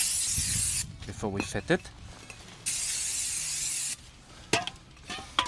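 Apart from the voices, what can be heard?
brake cleaner sprayed on new brake disk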